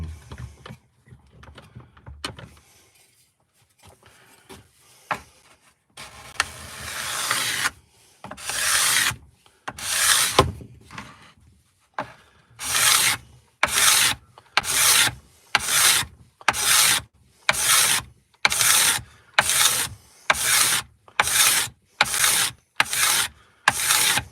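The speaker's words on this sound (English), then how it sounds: "card scraper, yeah." Card scraper scraping wood during carving, starting with scattered scrapes and handling noises, then settling into a steady series of about fifteen rhythmic rasping strokes, close and fairly loud.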